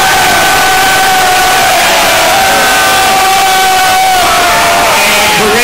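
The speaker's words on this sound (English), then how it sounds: "Let's hear it for James Crowley" A loud, dense wrestling crowd cheers, whoops and yells for a wrestler's entrance at a DARC event, with a continuous roar throughout.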